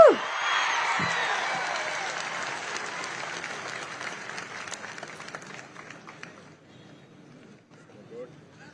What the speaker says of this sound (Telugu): గట్టిగా చప్పట్లు కూడా అభినందించండి